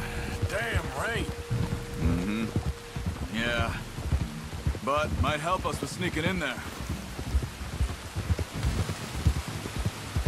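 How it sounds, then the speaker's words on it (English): Steady heavy rain in Red Dead Redemption 2 hisses throughout while people talk over it, the downpour continuous and close. "You were right about the damn rain."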